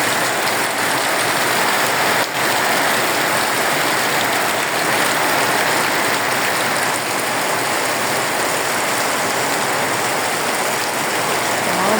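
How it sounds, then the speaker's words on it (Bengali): Heavy rain pours steadily in a dense, unbroken roar, loud and close, with no voices. "এতটা বৃষ্টি হচ্ছে"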